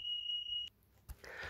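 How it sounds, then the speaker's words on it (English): A fire alarm gives a steady, shrill electronic tone that stops abruptly after a moment, followed by a brief thump and quiet room noise. "while that fire alarm was going on"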